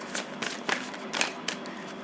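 A Moonology oracle card deck is shuffled by hand in quick, soft riffling bursts, about five brief papery flurries at close range with quiet pauses between.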